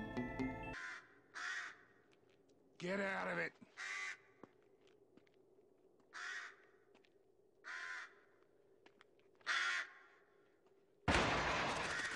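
Crows caw in a zombie movie, several harsh calls spaced across the scene with pauses between them, close and clear, alongside a man's brief spoken line and a loud burst of noise at the end.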